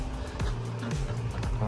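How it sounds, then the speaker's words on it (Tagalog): A car pulls out of a parking area with a low engine rumble, its pitch rising and falling in short shifts as it maneuvers, heard up close with people talking. "Merong maglabas na sasakyan."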